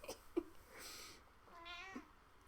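A house cat meows softly several times indoors, short faint calls with a longer drawn-out meow near the end, heard on its own with no talking.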